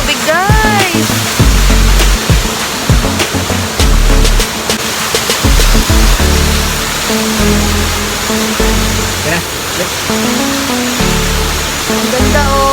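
Kilangin Falls waterfall in Liliw, Laguna rushing steadily with broadband water noise throughout, while people talk and exclaim nearby over the constant roar.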